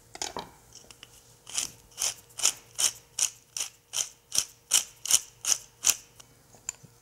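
A pepper mill grinds black pepper in a kitchen, producing a steady run of about a dozen crisp, close, ratcheting crunches in an even rhythm with no talk.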